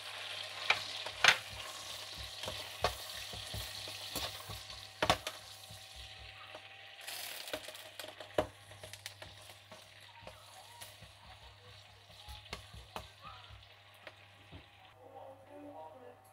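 White onion sizzles in a pan for a vegetarian mushroom curry, a steady frying hiss broken by sharp clicks and scrapes of stirring, fairly quiet and close, with no talk.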